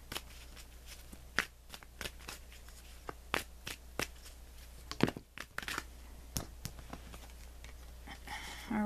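Tarot deck shuffled to draw a guidance card: repeated sharp papery taps and flutters in bursts, close up but quiet over a low steady hum, with no voices.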